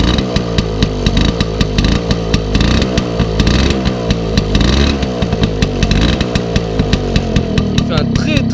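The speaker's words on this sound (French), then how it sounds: "on va essayer de faire chanter un petit peu le pot à l'arrêt" A motorcycle with an aftermarket exhaust revved hard while standing still during a service, loud and close, with rapid throttle blips and sustained roars over a rumbling idle; someone talks between revs.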